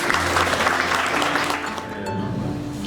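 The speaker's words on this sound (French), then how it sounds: "sous vos applaudissements" Sustained applause from an audience at a graduation ceremony of a training school in Saint-Louis, a dense steady wash of clapping throughout, loud and close with a slight dip midway, no voices on top.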